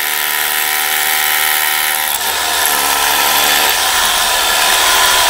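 Cordless rotary hammer drilling on a facade during scaffolding work, a loud, close, sustained high whine and grinding that shifts slightly in tone partway through, with no talk.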